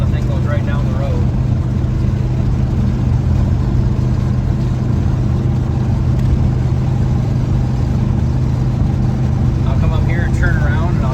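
1977 Chevrolet C10 Silverado pickup cruising down a road, with a steady low engine drone and road rumble throughout, close and loud, and someone talking briefly at the start and end.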